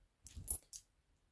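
Coins drop and clink in a few quick, bright taps while cash is counted, close and fairly quiet with no talking.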